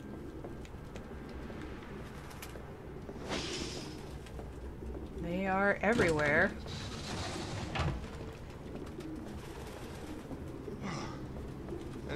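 Pigeons coo in a city scene from the video game Detroit: Become Human, soft low warbles repeating behind a steady ambient bed, with one louder burst midway and someone talking over them.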